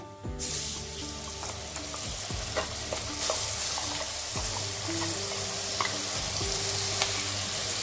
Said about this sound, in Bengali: ওই তেলেই আমি দিয়ে দিচ্ছি গোটা গরম মশলা, আর দিয়ে দিচ্ছি পেস্ট করে রাখা মশলাটা।